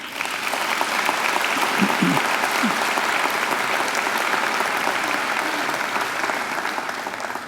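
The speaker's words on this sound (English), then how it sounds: "I think she deserves another great round of applause" An audience at a university graduation ceremony applauds a singer, a steady dense wash of many hands clapping at even volume that continues throughout and tapers slightly near the end.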